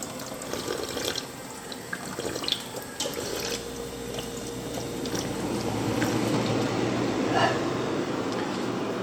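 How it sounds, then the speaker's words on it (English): Hotel drinking fountain at a Home2 Suites in uptown Charlotte spraying water everywhere, a continuous splashing rush that grows louder and fuller partway through, with small knocks and handling sounds early on. "that drinking fountain sprays everywhere when I was trying to get a drink of water"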